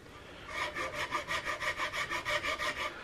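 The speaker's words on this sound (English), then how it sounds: "I'm just using this rat tail rasp to come in along this curve" A rat tail rasp shapes the curve of a wooden gun stock on a Hawken rifle kit, producing about a dozen even, rhythmic scraping strokes, close and fairly loud, with no voice.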